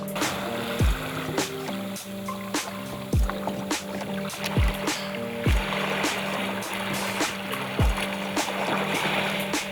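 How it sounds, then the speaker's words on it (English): A boat motoring out across a bay on whale-watching waters, steady engine drone with regular thumps of the hull slapping waves and rushing water throughout, close and loud, no voices. "As we motored out into the bay"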